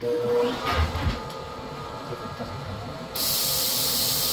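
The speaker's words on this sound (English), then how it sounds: "Oh, compressed air." Compressed air hissing from an air line, a steady broadband hiss that stops briefly and then resumes louder and continuous near the end, heard close with rumbling machinery underneath.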